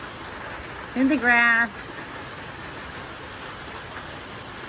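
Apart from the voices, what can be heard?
rain falling outdoors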